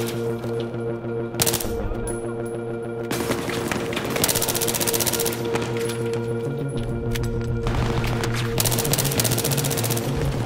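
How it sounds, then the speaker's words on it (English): Enemy gunfire in Battlefield 3, with dense bursts of automatic shots and cracks layered over a steady rumble of game music and ambience, loud and continuous across the whole stretch. "there's enemies shooting through this window in this next room."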